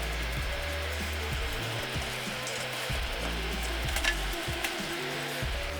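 Chili paste fries for a British-style Rogan Josh while being stirred in a pan: a steady, close sizzle runs throughout, broken by repeated scraping stir strokes, with no talking.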